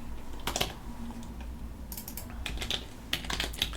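Fingers type on a computer keyboard while building a Linux ISO, with close, crisp clusters of keystrokes in uneven bursts separated by short pauses and no voices.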